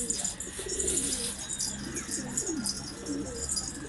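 Pigeons coo repeatedly in low, throaty rolling phrases close by, with bright chirps and tweets from other birds scattered over a steady background.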